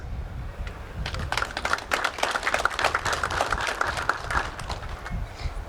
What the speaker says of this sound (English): May we give a round of applause.